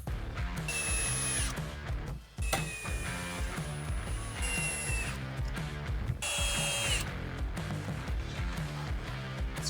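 A power drill drives screws during a larger touchscreen install in a 2019-2024 GMC Sierra / Chevy Silverado, whining in several short bursts over steady background music.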